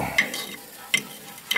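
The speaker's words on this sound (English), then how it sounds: "The zucchini is edible, but I just wanna cook off some of the moisture." Zucchini cooking in a pan on a wood stove, heard as a soft sizzle broken by three short, sharp scrapes or stirs spread across the moment.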